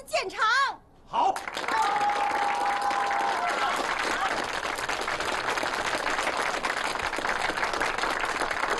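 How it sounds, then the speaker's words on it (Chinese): A brief voice gives way to a crowd's warm, sustained applause welcoming a chief engineer at a gathering, with steady clapping filling the rest of the moment. "大家以热烈的掌声欢迎肖威田总工程师到我们这儿来投资建厂"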